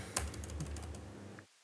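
Quick keystrokes clatter on a computer keyboard, a short soft run of taps close up that stops abruptly into silence.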